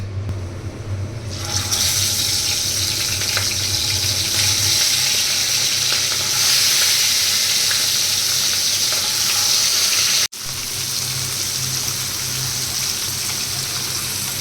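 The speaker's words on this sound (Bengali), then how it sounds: "আর এদিকে মাছ রান্না করার জন্য মশলা কষে নিলাম।" Spice paste for a fish curry frying hard in a pan in a home kitchen, a steady loud broadband sizzle that holds nearly unbroken for the whole stretch, with one brief dropout near the end.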